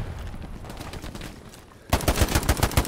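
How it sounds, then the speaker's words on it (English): A few gunshots in the World War II shooter Hell Let Loose. Quieter shooting comes first, then a fast, loud run of close shots in quick rhythm near the end, with no talk. "I missed a couple of those shots, but then I dropped him."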